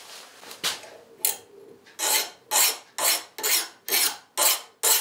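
A 65 HRC file rasps across a freshly hardened chip carving knife blade: one or two tentative scrapes, then six or seven firm, evenly spaced bright strokes, close and loud with nobody talking.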